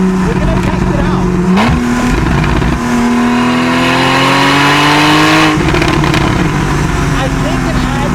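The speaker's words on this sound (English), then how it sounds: "we're gonna go for a test drive because we definitely wanna hear the car with the new filters" A Porsche 911 Carrera (991.1) with new air filters revs on a test drive, the engine note climbing, dropping with a gear change, then rising steadily again, loud and close from inside the car.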